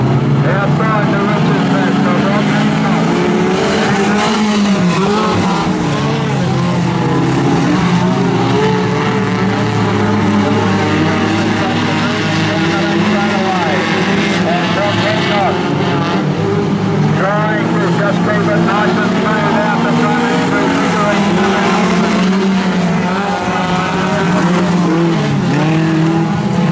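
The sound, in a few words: National 4s race cars racing at Maryborough Speedway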